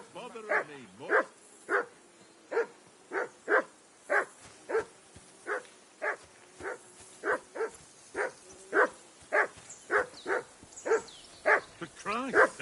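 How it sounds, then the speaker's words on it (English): Dog barking in the video game Kingdom Come: Deliverance 2, a long run of evenly spaced loud barks about every half second, close and insistent, with occasional whimpers between them. "Call off that damn dog before he wolfs down the last of our mates."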